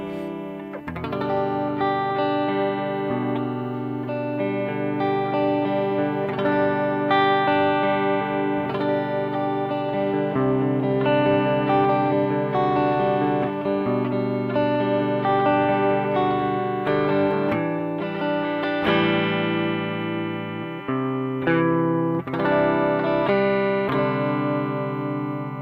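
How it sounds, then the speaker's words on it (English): A guitar is played through the Q Show Elevate effects unit with tremolo modulation, producing sustained chords and melodic notes that swell and pulse steadily throughout with no talking. "and that's the tremolo"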